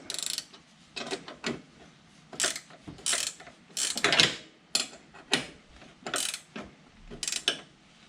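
Ratchet wrench tightening a nut on a John Deere 425, 445 or 455 garden tractor three-point hitch: bursts of quick metallic clicking strokes, repeated about a dozen times with short pauses, close and clear.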